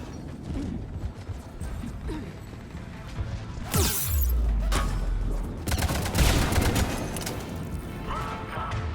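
Gunfire in the video game Mass Effect 3 crackles in bursts and rapid volleys, with heavier blasts and impact crashes piling up over a busy combat background.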